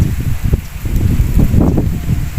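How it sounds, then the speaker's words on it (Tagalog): Gusty wind buffeting the microphone, a loud low rumble that surges and fades unevenly throughout. "Hangin dito."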